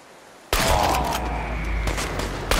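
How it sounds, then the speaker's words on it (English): A shotgun is fired point blank in the video game Chernobylite. One abrupt, very loud blast hits after a quiet start and is followed by a long, rumbling tail with a few fainter cracks. "Point blank shotgun."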